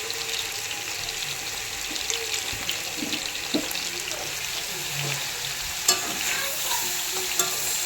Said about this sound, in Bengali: আর আমি এই যে রান্না করছি ফুলকপির তরকারি।